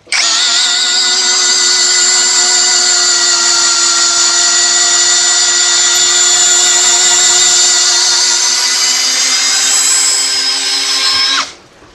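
A cordless power drill whirs steadily at its low speed setting, a loud, even high-pitched whine held for about eleven seconds before cutting off abruptly.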